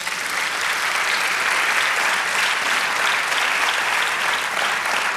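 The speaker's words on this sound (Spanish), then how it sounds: "Dale un aplauso al Señor." Church congregation applauding together at a Spanish-language service, a steady dense wash of clapping that holds loud and even for the whole stretch with no voices standing out.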